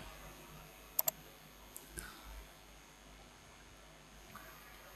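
A computer mouse gives a quick double click near the start, followed by a few softer, scattered clicks in an otherwise quiet room.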